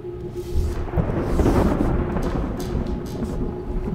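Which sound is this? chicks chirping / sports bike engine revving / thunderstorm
thunderstorm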